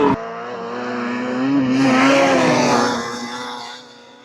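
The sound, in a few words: rebuilt snowmobiles riding in the backcountry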